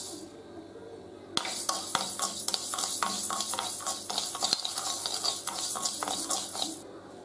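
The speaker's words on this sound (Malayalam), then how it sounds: "ആദ്യം നമുക്ക് അരി വറുത്തെടുക്കാം." Rice grains dry-roasting in a pan for a Thalassery-style semolina chicken biriyani, a spoon stirring and scraping in steady rhythmic strokes with a light continuous crackle, fairly close and alone.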